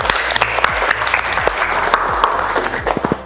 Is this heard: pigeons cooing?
no